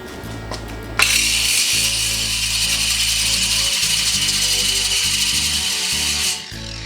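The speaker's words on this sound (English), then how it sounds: "I'm gonna grind it again." An angle grinder works a weld seam on a steel teardrop trailer frame. After a short lead-in, a loud, continuous whining grind runs for about five seconds, then winds down.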